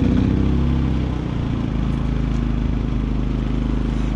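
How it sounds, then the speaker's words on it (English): A running air compressor chugs steadily at close range with a continuous low engine-like drone and no break for about four seconds, used while cleaning a car's door jambs. "Plug in the air compressor."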